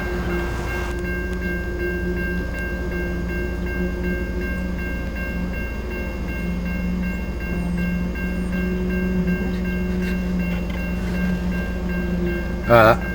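A train rumbles past a railway crossing in Victoria, Australia, with a steady mechanical drone and faint high tones, building slightly, ending in a brief rapid warning tone.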